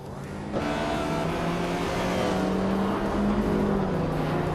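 A 1995 Ford Escort RS Cosworth race car in a racing video game, its engine droning loud and steady at high revs for several seconds with no talk over it.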